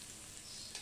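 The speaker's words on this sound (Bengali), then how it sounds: "তো আমি আরেকটু বাটার দিয়ে দিলাম। তো এটা একটু ভেজে নিয়ে" Butter sizzles and crackles in a hot pan for a keto broccoli and chicken dish, a short, steady, close hiss with no talking.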